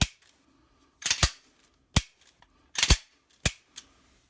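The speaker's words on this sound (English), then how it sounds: "since the gun is still empty, we're going to test fire." Empty Ruger American pistol dry-fired in a test, giving sharp mechanical clicks and snaps in several separate bursts, some doubled, close and crisp with quiet gaps between.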